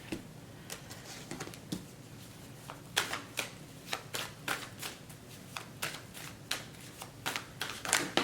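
Tarot cards being shuffled by hand, a steady run of crisp riffling and slapping bursts that come close and fairly loud, with no talking over them.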